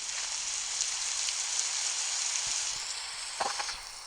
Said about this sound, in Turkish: Yine yağmur yağıyor ya.